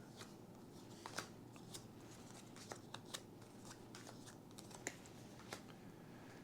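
Board game cards being shuffled by hand, soft quick riffles and light snaps at close range, fairly quiet with no talk.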